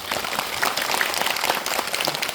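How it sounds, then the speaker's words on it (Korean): A film screening audience applauds three guests at a guest-visit talk, a thick crowd of hands clapping steadily throughout at moderate volume. "세 분께 박수 한번 부탁드립니다"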